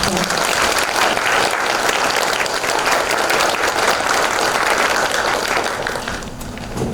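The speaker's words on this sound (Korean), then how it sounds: "감사의 박수 한번 쳐주십시오" An audience at a public gathering gives thanks with sustained, dense applause. The many hands clap loudly and evenly for several seconds, then the sound tapers slightly at the end.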